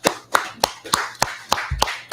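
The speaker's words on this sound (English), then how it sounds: "Clap it up." Steady rhythmic clapping, about eight sharp claps evenly spaced roughly a third of a second apart, close and fairly loud, with no talking over them.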